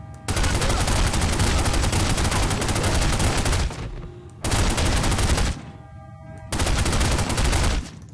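A machine gun in The Godfather video game fires in three long, loud, sustained bursts, each cutting off abruptly with short lulls between them.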